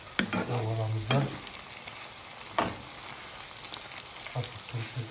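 Egg mixture frying in a pan for potato cutlets, a soft sizzle punctuated by a few sharp spatula knocks and scrapes as it is stirred, fairly quiet and close.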